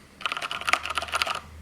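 Rapid typing on a WASD Code 87-key mechanical keyboard, a dense run of close, clicky keystrokes lasting about a second, fairly loud and with no voice over it.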